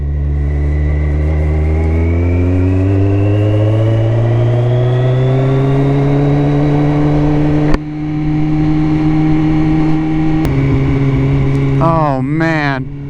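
Kawasaki ZX14 motorcycle engine revving up loud and close, its pitch climbing smoothly as the bike pulls away, with a brief shift break midway and then another run of rising revs.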